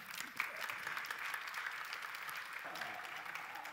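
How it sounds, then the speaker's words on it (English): A room of people at a European Development Days 2017 conference session clapping steadily, a moderate crowd applauding evenly throughout without anyone speaking over it. "Round of applause, I think."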